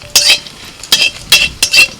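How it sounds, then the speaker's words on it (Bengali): Dried red chillies hit hot oil as tempering for frying susuni greens, giving four short, bright bursts of sizzling and stirring spaced about half a second apart, close by with no talking. "তেলের মধ্যে দিয়ে দিচ্ছি শুকনো লঙ্কা"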